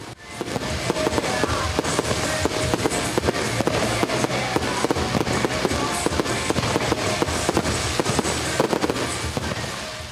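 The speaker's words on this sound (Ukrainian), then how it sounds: "а небо над Єршавою запалили тисячі феєрверків" Thousands of fireworks burst over an outdoor youth concert and disco in Iershava, a dense, loud, continuous barrage of cracks and booms with no pauses.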